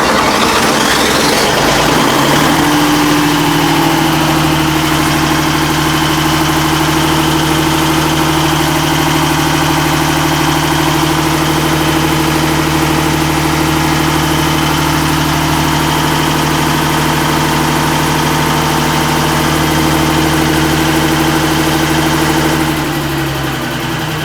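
An old Lister Petter generator engine runs steadily and loudly at close range, a constant low droning hum with strong mechanical harmonics that holds for over twenty seconds before cutting off near the end.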